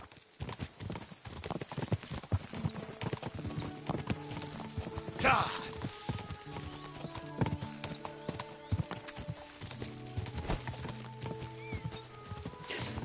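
Horse hooves clip-clopping in Kingdom Come: Deliverance II, a steady rhythmic gait of close, sharp hoof strikes running throughout, with a brief neigh partway and someone talking over it.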